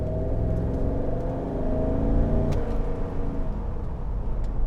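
A 2011 Cadillac Escalade with a 6.2-liter V8 out on the road, its engine giving a deep, steady rumble that swells briefly mid-way under acceleration, heard close and loud without talk.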